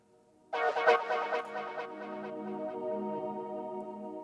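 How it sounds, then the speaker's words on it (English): A reversed organ swell in a UK garage track rises into a bright, chordal tone with a sharp onset after a quiet start, then sustains softly and steadily for several seconds. "This is just like a reversed organ swell."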